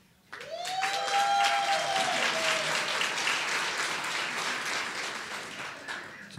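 An audience at a college gala dinner breaks into warm applause for a guest being introduced, rising quickly and holding steady before tapering, with a faint voice and tonal sweep briefly audible over the clapping.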